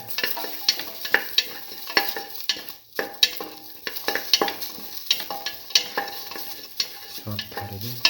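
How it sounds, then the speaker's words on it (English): Tamarind sautéed with garlic and mung beans in a pan, a rhythmic series of close spatula scrapes and knocks about every half second over a light sizzle, with a brief low rumble near the end. "Saute thoroughly."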